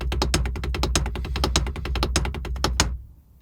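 Six-stroke roll on a drum played at a quicker pace, a dense rapid stream of close, punchy strokes that stops abruptly near the end.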